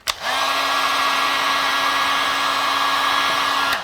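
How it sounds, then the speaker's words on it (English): A heat gun blows steadily, warming the lacquer on an Epiphone SG guitar. It switches on with a click and runs at a constant loud whir for several seconds before cutting off. "So first off, heat gun."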